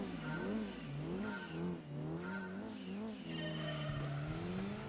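A Ford GT40 race car engine in Gran Turismo 2 on PS1 drones loud and steady, its pitch rising and falling in repeated waves through gear changes, with a faint tire squeal and no talk.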